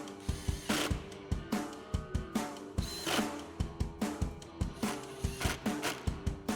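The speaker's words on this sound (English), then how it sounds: "We'll grab our 7mm socket and tighten these down." A 7mm socket ratchet clicks rapidly and steadily while tightening screws on the lower vent of a Dodge Charger, close and loud, with short pauses between bursts of pawl clicks.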